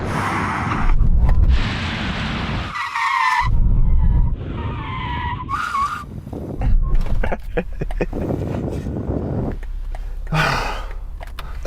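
A BMW car with failed ABS skids under hard braking, producing loud, sustained tyre noise in several bursts across the clip, with engine sound underneath and no talk.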